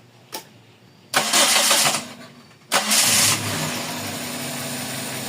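A Toyota 4A-FE engine cranks and catches, revs, drops, then starts again and settles into a steady, loud idle around 800 rpm once warm.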